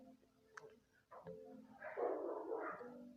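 Dogs bark and whimper faintly in the background, a few short yips followed by a longer, rougher burst of barking, all quiet and somewhat distant.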